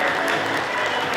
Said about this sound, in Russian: Громкие аплодисменты, конечно же, святым.